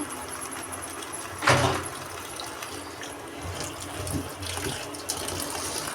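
Water poured over cut eggplant pieces to soak them before cooking alongside hilsa fish, a brief gush near the start, then faint splashing and trickling.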